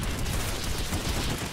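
Gunfire in the shooter Planetside 2, a dense, continuous fusillade of overlapping shots, loud and close, with no pauses for the whole burst.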